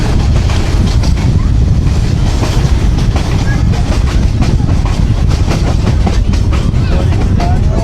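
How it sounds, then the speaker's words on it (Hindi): A Millat Express train rolls on after passing Jora Karnana station as its brakes come on, with loud, continuous clickety-clack of wheels over rail joints and heavy rumble throughout, plus faint voices in the background. "जोड़ा करनाना से पास होते ही ट्रेन की ब्रेक्स लग गई हैं।"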